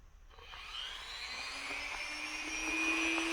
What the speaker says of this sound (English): you will want to use a rotary tool for this